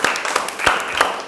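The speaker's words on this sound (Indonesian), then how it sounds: "Baik, boleh kasih tepuk tangan ya" Students in a classroom clapping their hands together, a brief burst of fast, overlapping claps at moderate volume, with a voice faintly underneath.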